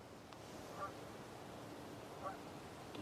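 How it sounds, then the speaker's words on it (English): Geese honking faintly in the distance outdoors at night in a grove, two or three brief calls spaced apart over steady hiss, no talking. "Geese. Geese."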